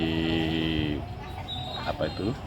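Cattle, black and white cows that have run loose before slaughter, with a long sustained moo-like call in the opening second, followed by shorter calls and stirring mixed with people talking.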